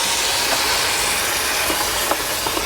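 Beef stock poured into a hot stainless Ninja Foodi pan to deglaze it after searing short ribs, a loud, continuous steamy hiss and sizzle filling the whole moment, close up.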